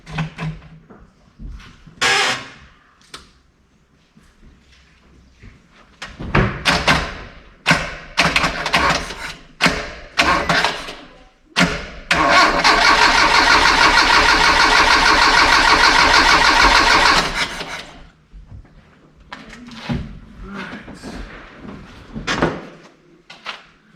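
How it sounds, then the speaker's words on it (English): A Dodge D50 pickup's G63B engine being cranked using a screwdriver in a drilled-out ignition, with clicks and short bursts first, then a long loud continuous crank of several seconds, followed by clanks and shuffling. "I do have to use a screwdriver to crank it over, because we drilled the ignition out last time."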